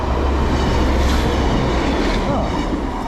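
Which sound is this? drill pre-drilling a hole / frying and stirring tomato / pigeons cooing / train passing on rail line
train passing on rail line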